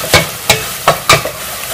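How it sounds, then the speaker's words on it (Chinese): Sweet chili sauce stir-fried in a wok for tom yum soup: four sharp, loud scraping strokes of a spatula roughly every third of a second over a low sizzle, close by. "甜的辣椒酱，放到锅里炒一下。"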